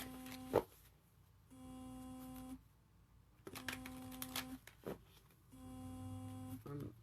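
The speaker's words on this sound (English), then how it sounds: "My grandfather's phone is ringing. Something's ringing somewhere." A soft electronic ringing tone sounds in a few separated bursts, faint and somewhat distant, with occasional clicks and knocks in between.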